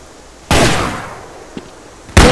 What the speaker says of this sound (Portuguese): Tiro pra burro, mano.